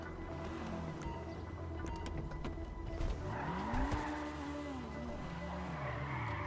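A car drives and skids in a video game, tires squealing in long sliding arcs over a continuous engine drone, moderately loud with no talk.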